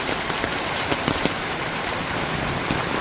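Steady rain falls on an umbrella and a road on a rainy day, a dense continuous hiss with scattered close drops tapping the umbrella fabric, no talking.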